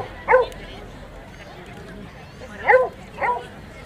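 Dogs at an outdoor dog demonstration by a rescue dog foundation give three short barks, one near the start and two close together near the end, with someone speaking in between.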